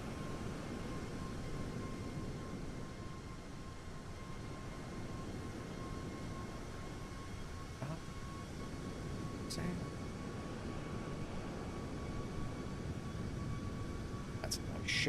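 Cabin of a Boeing 737 MAX8 flying through turbulence in Flight Simulator 2024: a steady, low airliner drone with a faint high tone above it and a few soft clicks, held at an even, quiet level throughout.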